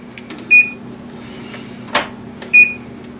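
An oven keypad gives two short, loud electronic beeps about two seconds apart, with a soft clack between them, set in a quiet home kitchen while brownies are being prepared.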